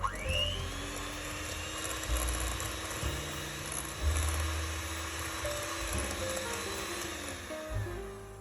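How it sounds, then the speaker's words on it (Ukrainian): An electric mixer whips room-temperature butter in a bowl with a steady high whine that runs throughout, with brief dips and bumps as the beaters move and touch the bowl. "і починаємо його збивати одну-дві хвилини, щоб масло посвітлішало."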